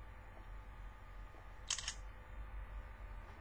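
LG GT505 phone camera firing its shutter once, a brief crisp click burst midway through an otherwise quiet, faintly humming room.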